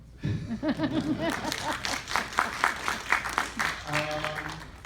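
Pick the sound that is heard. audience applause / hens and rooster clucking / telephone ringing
audience applause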